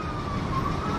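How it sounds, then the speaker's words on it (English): Ambulance siren sounding loud and close in a brief, continuous wailing tone as it passes by, with street rumble below it. "see, that's not our siren, by the way, that's an ambulance."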